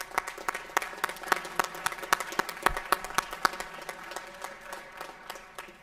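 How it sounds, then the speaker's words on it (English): An audience at a spring sports awards gathering applauds the 2023 girls track and field team, a sustained patter of many hands clapping at a moderate distance that slowly thins toward the end. "Give them a round of applause."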